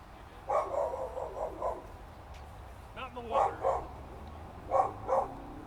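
A dog barks near an outdoor disc golf course, loud repeated barks in three short bursts of two to four, carried over a quiet background.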